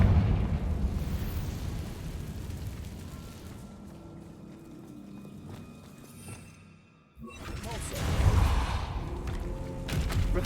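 A Confringo spell in Hogwarts Legacy bursts into a deep booming explosion with a rumbling tail, followed by a short lull and a second heavy blast, while a voice speaks over the game sound.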